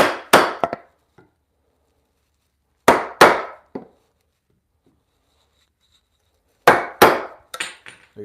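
A chisel is driven into timber to chop stop cuts during hand-tool joinery for a timber bunk bed. Three close clusters of sharp, loud strikes, two or three blows each, are separated by several seconds of silence.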